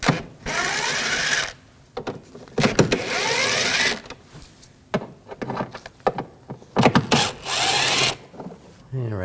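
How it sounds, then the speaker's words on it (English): A power tool with a T25 socket spins out wheel well liner screws on a 2006-2009 Audi S4, four loud whirring bursts of a second or so each, separated by quieter clicks and handling noises, close by. "Use a T25 socket. Take these screws out."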